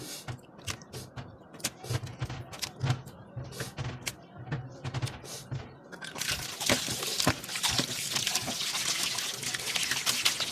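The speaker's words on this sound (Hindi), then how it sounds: "अब हम कलेजी को नल के नीचे रखेंगे और इस तरह से वॉश करेंगे" Beef liver pieces are rinsed under a running kitchen tap, water splashing and trickling with wet handling sounds, growing into a louder, steady gush of flowing water in the second half.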